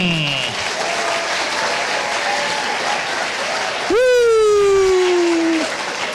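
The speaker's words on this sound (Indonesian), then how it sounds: "berikan tepuk tangan yang meriah untuk Fikram." A studio audience on the Indonesian talk show Kick Andy gives a guest a warm round of applause. The clapping is steady, and near the end a voice rises above it.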